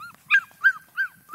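A five-week-old puppy whimpers in three short, high, whiny cries spaced evenly, close and clear, with quiet pauses between them and no talking over them.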